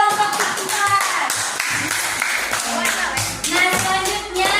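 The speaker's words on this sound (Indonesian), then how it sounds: "Silakan tepuk tangan untuk kelompok 4." Students in a classroom clap for a presenting group, lively crisp hand claps in quick uneven patter with voices talking and calling out over them.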